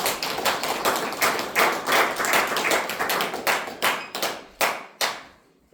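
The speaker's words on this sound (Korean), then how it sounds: "박수로 환영해 주시기 바랍니다" A small audience claps to welcome a speaker, the chairman of a Dangun research association, at a Korean presidential campaign rally. The close, dense clapping thins into a few scattered final claps and dies away.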